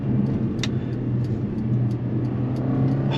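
Mercedes-Benz A45 AMG S Plus hot hatch under steady engine drone on the road, a continuous loud hum with a brief sharper burst early on, no talking.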